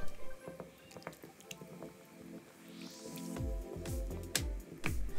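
Homemade vegan golden curry roux block dropped into simmering stock, giving soft wet squishes, drips and bubbling splashes that grow busier toward the end, close up with no talk.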